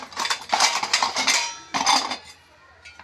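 A metal bowl and utensils clatter and clink as they are set down on a kitchen counter, several close, bright knocks in quick bursts, then a pause and one faint final tap.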